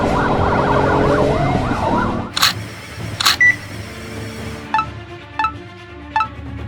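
A wailing toy ambulance siren from a LEGO set sweeps up and down loudly for a couple of seconds, then cuts off, followed by several sharp clicks and beeps.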